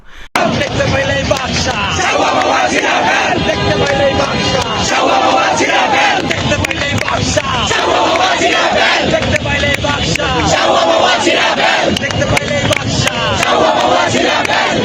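A large crowd chants slogans together at a Shahbag protest in Bangladesh, a dense, loud roar of massed voices with rhythmic shouted bursts, continuous throughout without pause.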